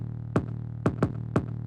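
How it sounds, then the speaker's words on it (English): An 808 bass in a Memphis drift beat, left without EQ or compression, thumps out four booming hits with pitch-dropping attacks in an uneven rhythm over a low continuous drone. "So without either of these, the bass sounds like this."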